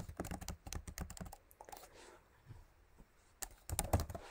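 Rapid typing on a computer keyboard, close and clicky, with a steady run of keystrokes, a quieter pause in the middle, then another short burst of keys.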